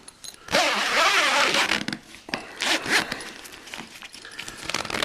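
A hydroponic grow tent's zipper is pulled down in a few quick rasping strokes, close and fairly loud, separated by short pauses, with faint handling rustle.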